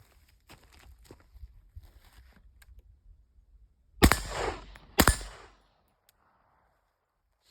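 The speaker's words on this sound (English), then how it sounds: "So that's the steel target. Here's the steel plate." Two sharp, loud .223 rifle shots ring off a steel target plate about a second apart, each with a bright metallic clang and short decay, after quieter handling clicks and rustles outdoors.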